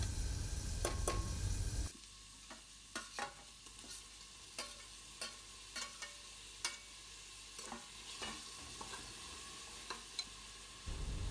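Chopped tomatoes sautéing with softened onions in a pan for a prawn biryani: a loud hiss at first as they hit the pan, then a quieter sizzle broken by regular scraping stirs of a spoon, no talking.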